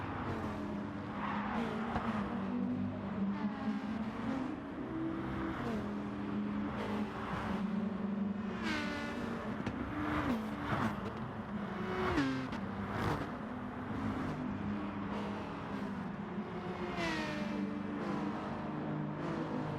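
Race car engines in a racing video game rev and wail continuously, rising and falling in pitch as cars accelerate, pass and brake, with occasional tire squeal, all fairly loud with no talking.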